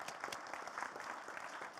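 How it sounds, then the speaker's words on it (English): An audience claps, a dense, steady patter of many hands at moderate distance, fairly quiet overall. "we'll give them a clap."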